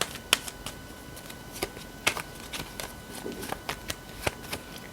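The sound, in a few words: tarot cards being shuffled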